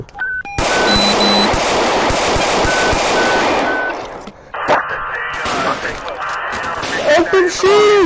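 Gunshots ring out during a police confrontation captured on body camera, a loud burst of sharp cracks over the first few seconds amid shouting and radio beeps, followed by more shouting voices.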